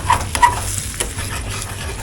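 Ghee egg fried rice being stirred in a pan, with a few distinct scraping strokes of the spatula over a soft sizzle, close and moderately loud.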